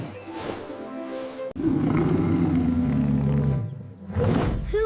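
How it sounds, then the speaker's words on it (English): A lion roars in a deep, loud, drawn-out rumble lasting about two seconds, followed by a shorter, rougher growl. The sounds stand alone with no talk. "It's a lion."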